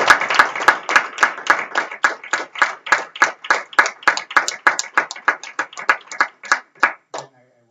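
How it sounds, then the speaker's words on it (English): Hands clap in a rhythmic, fairly close burst of applause from a conference audience after a talk, with individual claps distinct, fading out after about seven seconds. "I want to ask a big applause for you"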